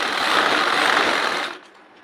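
A sewing machine stitches a petticoat seam in one loud, fast, continuous mechanical run that stops abruptly about three quarters of the way through, leaving near silence.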